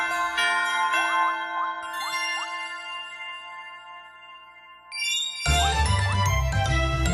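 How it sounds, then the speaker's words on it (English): In Kirby's Epic Yarn, a bell rung at the end of a level gives bright chiming tinkles and rising arpeggios over a soft musical background, then a fuller burst of jingly music to close. "let's ring this bell and get out of here"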